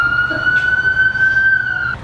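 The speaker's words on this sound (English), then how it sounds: "that's a really loud siren." A loud steady siren wails nearby at one sustained high pitch, with a low rumble of traffic underneath.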